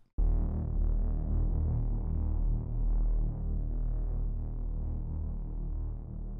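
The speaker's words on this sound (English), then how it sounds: "And then we've got a re-space, which sort of filters out." A muffled, filtered wash of reverberant tone drones steadily for several seconds, dull and boomy with the high end stripped away, a filtered reverb effect in a future bounce track.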